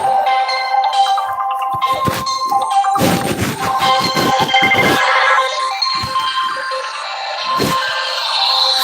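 A phone rings with a loud, melodic electronic ringtone from a spam caller. It plays continuously with chiming tones and percussive hits, up close and with no talking.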